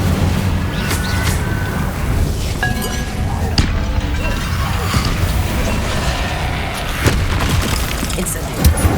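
An Incendio fire spell in Hogwarts Legacy blasts with booming, crackling bursts amid dense game effects and clatter, loud and close throughout.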